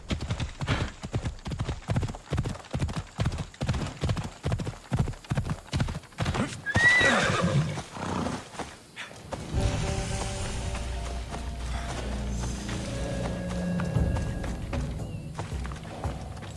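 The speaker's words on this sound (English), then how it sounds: "Looks like a sturdy horse." Steady clip-clop of hooves trots along for several seconds, then a horse whinnies; afterward a low rumbling ambience with faint tonal sounds continues, in the video game Assassin's Creed Odyssey.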